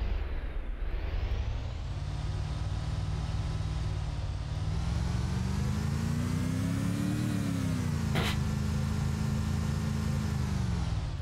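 A heavy vehicle engine drives steadily in the survival game DayZ Breaking Point, a loud continuous low drone whose pitch climbs and falls as it changes gear, with a brief sharp click near the end.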